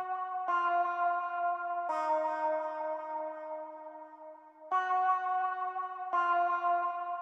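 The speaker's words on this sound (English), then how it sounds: "And that's the mod wah clean." A clean guitar loop runs through a mod wah effect in FL Studio, with four sustained ringing chords or notes struck at a slow, even pace. Each one decays smoothly into the next, with no voices.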